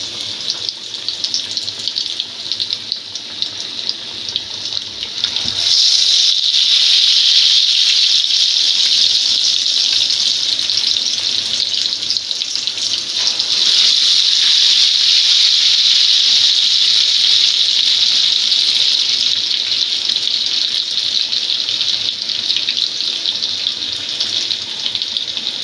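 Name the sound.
fish frying in a pan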